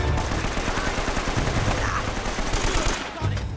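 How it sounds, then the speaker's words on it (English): Rapid, sustained automatic gunfire in Uncharted: Drake's Fortune rattles loud and close in a steady stream, easing briefly near the end before more shots resume. "Where's he shooting at?"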